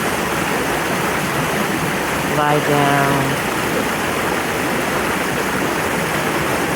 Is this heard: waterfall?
yes